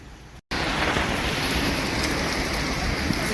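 Rain pours steadily in wind during a storm in Riyadh, a dense, close hiss that drops out for an instant and then returns at full strength without voices.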